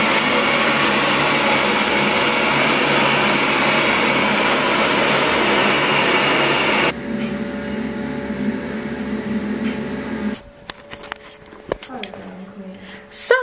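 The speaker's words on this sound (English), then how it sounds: "Blow dryer is going on." A loud, steady blowing roar runs for several seconds, then cuts out, leaving quieter background noise and a few clatters.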